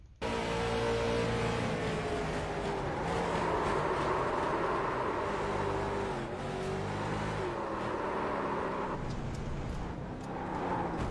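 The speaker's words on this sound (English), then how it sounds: "He jams it in there, and you can hear him rev that motor up." A late model race car in a racing video game, stuck after a spin, its engine revving and droning loudly and continuously with rising and falling pitch.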